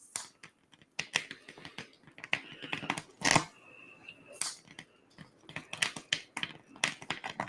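A high-voltage electric arc burning material, including glass: irregular bursts of sharp crackles and snaps, with a brief steady buzzing hum partway through, loud and close.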